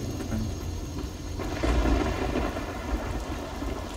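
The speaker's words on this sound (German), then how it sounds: "Vielleicht haben wir dann auch dieses dumme Gewitter hier weg." Heavy rain hisses steadily while thunder rumbles low and swells in the middle of a thunderstorm in Risen II: Dark Waters, with no voices.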